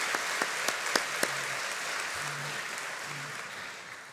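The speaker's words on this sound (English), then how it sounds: "How about a round of applause for all of our friends standing?" An audience at a chamber of commerce annual meeting applauds, a soft, steady wash of clapping with a few louder individual claps near the start.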